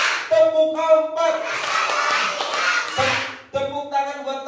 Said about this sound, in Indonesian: Tepuk tangan buat temen yang di samping